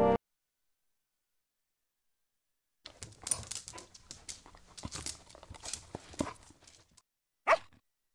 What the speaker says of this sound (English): The Newfoundland is the heaviest dog on average and can easily be mistaken for a bear.